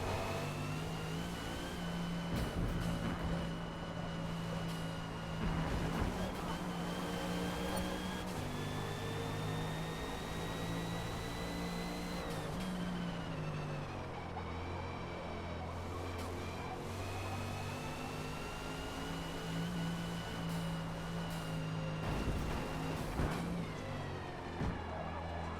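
A 2021 Audi RS 6 Avant engine in Forza Motorsport at Road Atlanta drones loudly and continuously under full throttle, its pitch rising through the gears and dipping at shifts, with no talk over it.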